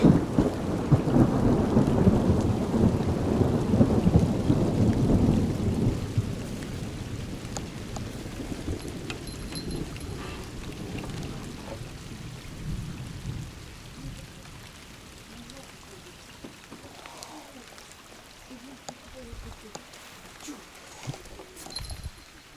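Rain falls heavily outdoors while float fishing for crucian carp on a pond, with deep rumbling thunder strongest at first, then fading to a lighter patter of raindrops and occasional distant rumbles.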